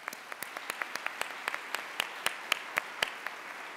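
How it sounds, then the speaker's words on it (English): Sparse applause from an audience at a keynote and opening reception, with individual claps picked out in an irregular pattern and growing a little louder and denser across the stretch. "Please join me in giving them a round of applause."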